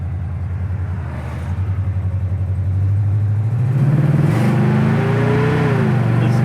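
A 1971 Oldsmobile 442 convertible revs its engine with a loud, close, steady low rumble that climbs in pitch, its tires spinning as the revs build toward the end.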